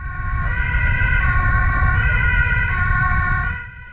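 A Swiss police car siren blares up close during an emergency ride in Zurich, a loud steady wailing tone over road and engine rumble, then cutting off near the end.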